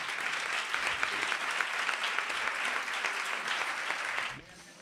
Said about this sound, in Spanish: un aplauso a ellos también